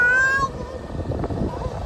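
A single short, high Siberian kitten meow up close at the start, followed by a rustling, muffled background with no further calls.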